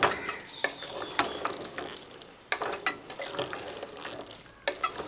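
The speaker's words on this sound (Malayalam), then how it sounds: "ചിക്കൻ നമ്മൾ ആ ഗ്രേവിക്കകത്ത് ഇട്ടതിന് ശേഷം ഒന്ന് ഇളക്കി കൊടുക്കുക" Chicken stirred through thick gravy: repeated scraping and knocking strokes of a spoon against the pan over a soft sizzle, with no voices.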